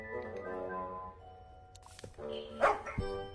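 A dog in a video game barks in a few short, sharp yaps at moderate level, set among game sound effects and a man's chatter, with the loudest bark near the end.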